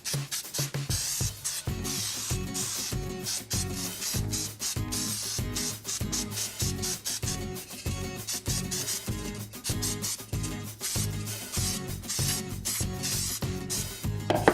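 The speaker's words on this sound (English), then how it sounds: "I'm gonna spray my pan. I'm gonna spray it well." Baking spray hisses over a cake pan in a series of short rhythmic bursts, some fifteen seconds of repeated close spritzing with no voices.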